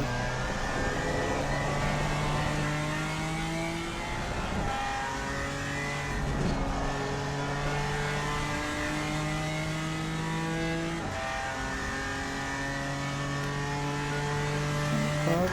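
A GT4 race car engine in a racing video game revs up and down through repeated gear shifts, a loud continuous whine rising in steps, with no voices over it.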